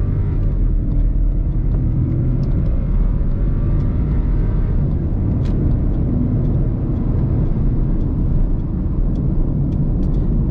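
Car engine droning steadily on the drive to a racetrack for drag racing, loud and continuous, with faint shifts in pitch and no talk.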